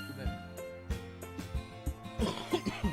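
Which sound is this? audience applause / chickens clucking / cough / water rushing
cough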